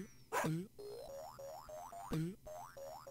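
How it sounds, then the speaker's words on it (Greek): Dogs bark in the retro game North & South as a rapid string of short, rising synthetic yaps, broken by two louder, harsher bursts. "Με τα σκυλιά, τα κοπρόσκυλα."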